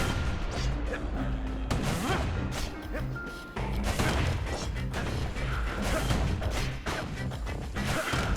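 Turrets are destroyed in the action video game Bastion: loud, dense bursts of crashing, smashing impacts and booming blasts follow one another rapidly with brief gaps, alongside clanking mechanical noises.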